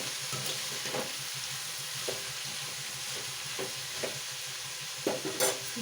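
Ivy gourd sizzles steadily in a hot pan with salt added while a utensil stirs it, leaving occasional scrapes and clicks over the continuous close frying, with no speech.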